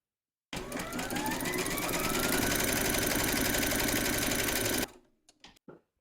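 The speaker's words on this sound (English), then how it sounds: "Pop your hoop into your machine and stitch round number 1" An embroidery machine stitches a round through fabric and batting in a hoop, a loud, fast, steady mechanical whir and clatter that starts abruptly, runs for about four seconds and stops, leaving a few faint clicks.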